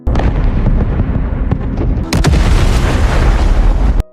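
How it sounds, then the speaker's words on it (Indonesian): A bomb blast tears through a refugee district in a film scene, a loud sustained roar of rumbling explosions with a sharp burst midway and another at the end, dense and close throughout. "bom meledak di distrik pengungsi."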